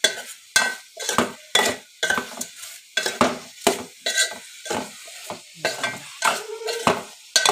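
Brinjal curry is stirred and fried in a pan, with a spoon scraping in a steady rhythm of about a dozen sharp strokes over a constant sizzle, close and alone.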